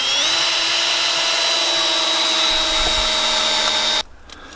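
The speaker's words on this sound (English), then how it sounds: "what we're doing now is putting screws in this." A power drill whines steadily for about four seconds as it drives screws into wood for a stove pipe cleanout door. The motor is loud and close, then stops abruptly, leaving quiet room noise.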